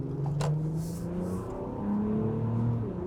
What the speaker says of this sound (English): it is the 3-liter engine, which is why it sounds like that, and it's in sport mode